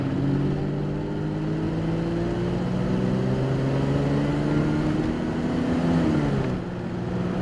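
A 1983 Ford LTD Country Squire wood-panel wagon accelerates steadily, its engine drone climbing in pitch over several seconds with a shift-like dip near the end, heard from inside the car with no talking.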